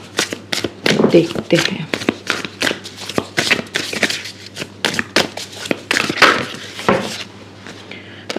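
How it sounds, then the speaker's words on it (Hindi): Tarot cards are drawn from a deck in a pick-a-card reading, with quick, crisp slides and flicks of card stock in rapid irregular bursts. A voice speaks briefly among them. "निकालती हूँ मैं कार्ड"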